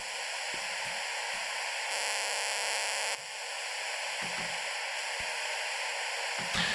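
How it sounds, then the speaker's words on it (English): Pure white noise, a steady wash of hissing, is turned by reverb into a sustained, reverberant drone for hard industrial techno, with faint low thumps scattered underneath. "it's basically pure noise, and I transform it to a drone with reverb"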